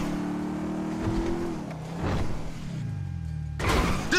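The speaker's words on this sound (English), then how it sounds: "That's a monster fucking bike you riding" A motorcycle engine in the video game GTA V drones and shifts pitch as the bike speeds along, with a steady mid-level engine tone that drops, surges and rises again before a brief louder burst at the end.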